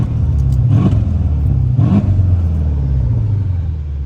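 Mercedes S-Class engine in sport mode revs hard twice, each sharp rise in roar settling back to a steady deep idle rumble, close and loud with no talking.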